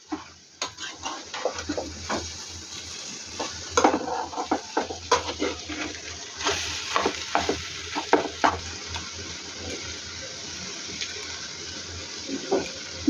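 Food frying in a pan and stirred at home by a young girl, with repeated scraping strokes of a utensil over a steady low sizzle; no one speaks.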